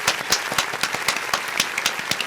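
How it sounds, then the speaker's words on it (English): A small group claps steadily for a couple of seconds, close by and moderately loud. "So let's give a round of applause."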